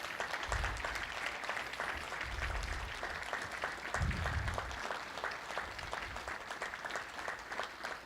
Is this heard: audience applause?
yes